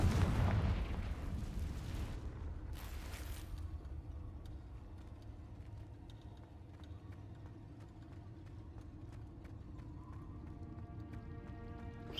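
In the video game Hogwarts Legacy, a Confringo fire spell goes off as a loud booming blast with a sharp crackling burst, then decays into a low rumbling tail with faint mechanical ticks and clicks.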